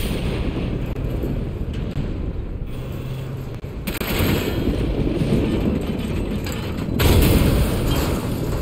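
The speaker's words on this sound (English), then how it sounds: "R2 is to fire the cannon." Loud, sustained barrage of machine gun and cannon fire with heavy booming blasts in the video game Resident Evil Village, dense and continuous with a sharper surge near the end, no talking.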